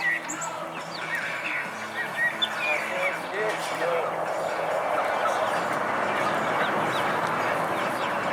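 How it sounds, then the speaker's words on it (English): Homestead chickens cluck and chirp in short bursts at moderate distance beneath a man's speech. "There, chicken."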